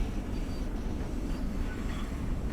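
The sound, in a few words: LIRR commuter train passing by, from a train simulator video game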